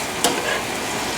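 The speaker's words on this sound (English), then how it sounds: "you have it sauteed with the delicious onions" Skinned sausage meat sizzling in a frying pan with onions, a steady loud hiss with a brief stirring scrape near the start and no talk.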